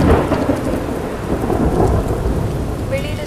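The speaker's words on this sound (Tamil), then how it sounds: "வெளியில ஜோரான மழை." Heavy rain pours outside in a steady, dense roar, with low thunder rumbling through it; loud and continuous, no voices.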